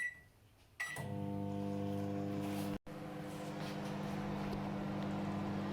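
A microwave oven runs at full power heating oil for popcorn, giving a steady, close electric hum with a brief click and dropout partway through before the drone resumes. No one speaks.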